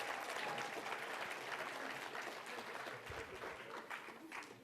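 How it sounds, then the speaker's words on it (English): Students of Kennedy-Curry Junior High clap in a school auditorium at a dedication ceremony, a steady dense wash of applause that fades slightly toward the end. "give yourselves a round of applause for that"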